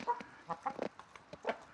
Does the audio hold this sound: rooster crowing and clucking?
yes